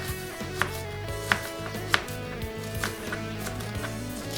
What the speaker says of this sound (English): I'm just dicing this quickly.